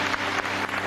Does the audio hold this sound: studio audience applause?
yes